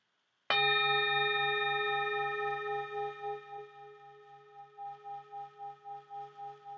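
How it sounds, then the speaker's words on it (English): A single gong chime struck once during a chakra reconnection session, ringing out with a sharp attack and a long, shimmering sustain that pulses and wavers as it slowly fades, heard alone with no talking. "And now with this next gong chime"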